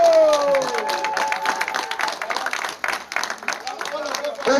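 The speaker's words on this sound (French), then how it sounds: "On applaudit pour Ngong de Live." Audience applauding the champion team at a Songo board-game tournament in Essassa-Ntoum, with steady crowd clapping and scattered cheers, a voice speaking over it throughout.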